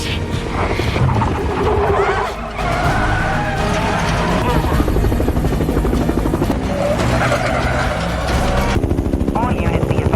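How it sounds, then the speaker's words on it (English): Loud helicopter chopping overhead in an action movie chase scene, a steady pulsing rotor beat throughout, mixed with dramatic score, engine noise and shouted voices. "The chopper! It's on us!"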